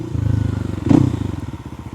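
A 2026 Kawasaki KLX 300 dual-sport motorcycle runs on a dirt trail, its engine a steady low pulsing drone nearby, with a brief louder surge and clatter midway.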